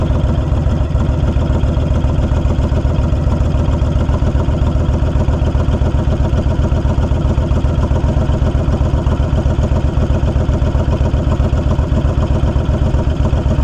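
A 2020 Honda Fury motorcycle engine idles steadily, a loud close low rumble with a fast even pulsing throb that continues alone without talk.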